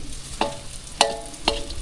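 Food being sautéed in a pan over a bonfire-style cooking fire outdoors, three separate clanks of a utensil against the pan with a low sizzle between them, no talk.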